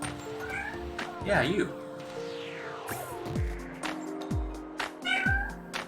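A house cat meows several times close by, the short calls mixed with a person talking to it and other indoor noises.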